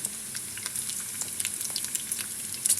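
Strips of frozen bacon fry in a hot pan with a steady, close sizzle and scattered sharp pops and crackles throughout, with no voices.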